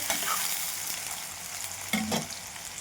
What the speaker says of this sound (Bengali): এবার কেটে রাখা পেঁয়াজ কুচিগুলো দিয়ে দেবো তেলের মধ্যে